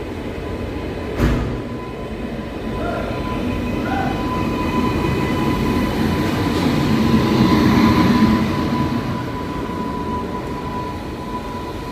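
Indian Railways train hauled by a WAP 5 electric locomotive from the Vadodara shed during a loco reversal, giving a steady, fairly loud rumble with a sharp clank near the start and a mild swell midway.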